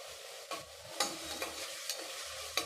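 Ginger and garlic sautéing in a pan, a soft continuous sizzle broken by several sharp scraping stirs, with no voices.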